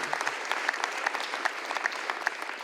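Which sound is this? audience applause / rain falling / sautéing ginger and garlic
audience applause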